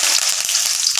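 Mustard seeds frying in hot oil for vegetable sambar, a steady, loud, dense sizzle with faint crackling pops throughout, close up and alone.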